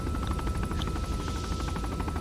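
Dense, continuous barrage of rocket explosions and rumbling impacts in an Arma 3 battlefield, loud and sustained with rapid crackling bursts layered over a low roar, no talk.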